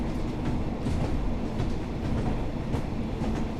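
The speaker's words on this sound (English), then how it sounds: "This train is the British Rail Class 142 diesel mechanical multiple unit in the Provincial Blue livery" British Rail Class 142 Pacer diesel mechanical multiple unit in Provincial Blue livery running in Train Sim World 4, a steady low rumble with rail clatter that holds at an even, moderately loud level throughout.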